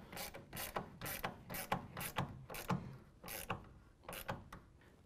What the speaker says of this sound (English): we're going to use a half-inch ratcheting wrench to tighten down this clamp